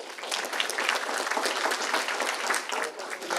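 A crowd at a Northern Cameron County Democrats school board candidate meeting claps steadily, a dense even burst of applause with no break for its whole length.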